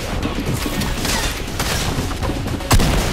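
Dense gunfire from a Fortnite match, a sustained fusillade of overlapping shots at mid distance with a sharper, louder burst near the end, no talk.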